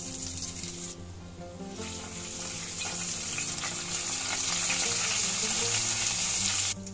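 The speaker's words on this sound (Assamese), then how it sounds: "এয়া মই গোটেইখিনি মছলাই ভাজি ল'লোঁ।" Panch phoron, dried red chillies, bay leaves and ginger sizzle in hot oil in a pan, a steady close crackling fry that swells louder midway with soft stirring scrapes.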